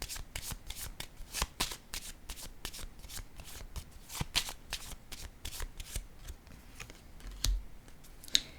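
Oracle cards are shuffled by hand in a quiet room, a fast crisp run of riffling flicks and slaps continuing throughout, close and moderately loud, with occasional sharper snaps.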